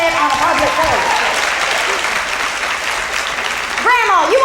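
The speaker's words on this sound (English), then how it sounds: "Applaud if you won't sit on a public toilet seat." A stand-up comedy audience claps loudly and steadily, a thick continuous roar of applause, while a comedian's voice talks over it at the start and end.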